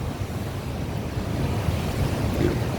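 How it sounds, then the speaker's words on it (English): Rough sea waves during Hurricane Beryl in Barbados, a continuous low roaring surge of surf mixed with wind buffeting the microphone, steady and fairly close with no talk. "Look at them waves there."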